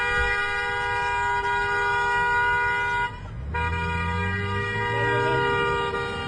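A sustained, steady horn blast drones loudly throughout, briefly dipping near the middle before continuing, with a low engine rumble underneath.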